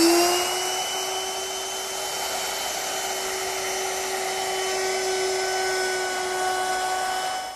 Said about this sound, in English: Now I'm going to round over the bottom edge of my top with a 1/4 inch rounding over bit.